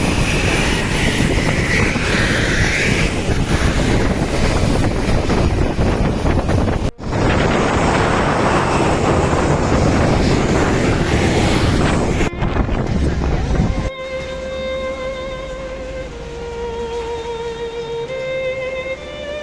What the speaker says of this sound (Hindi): प्लेन से निकलते ही इतनी तेज़ हवा चल रही थी कि वहाँ खड़ा होना मुश्किल था।